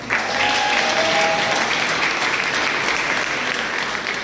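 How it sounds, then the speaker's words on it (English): Sustained applause from an audience at an Innocence Project celebration in Tampa, a dense steady wash of clapping at even loudness throughout, with faint crowd murmur beneath. "So give yourself a round of applause."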